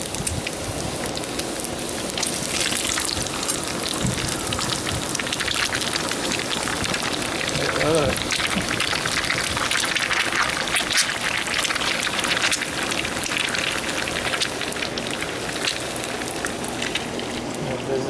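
Steady, loud sizzling and crackling fills the whole stretch, a dense hiss like eggs frying in a hot pan, with no voices.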